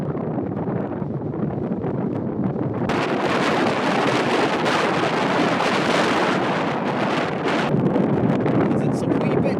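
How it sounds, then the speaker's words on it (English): Strong wind blowing outdoors in the Eskdale Valley, a loud continuous roar buffeting the microphone, rising in force partway through with gusty surges, and a voice faintly present beneath. "Rather windy out there."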